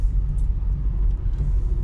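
A car rolls along a rough dirt field road near Mydlice, a steady low rumble of engine and tyres close up, with no voices.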